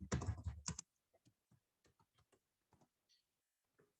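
A computer keyboard being typed on, a run of faint, sparse key clicks at an uneven pace in a quiet room after a short louder burst of noise.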